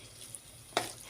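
Paneer, potato and peas are stirred in a pan, a soft close sizzle with a brief scrape of the spoon near the end.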